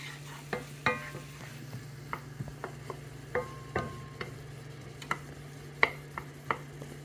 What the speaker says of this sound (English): You're just gonna saute this till they get soft.